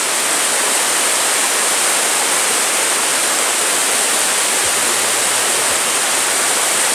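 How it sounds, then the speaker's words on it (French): A waterfall cascades at L'Aigue Brun, a dense, steady roar of rushing water filling the scene close and loud, with no voices over it. "je suis bercé par l'eau qui coule."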